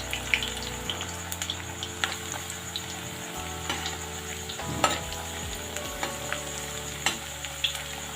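Wet pointed gourd (parwal) pieces sizzling and spattering in hot oil in a pan, a continuous crackling fry with periodic stirring scrapes and clatters, close and fairly loud.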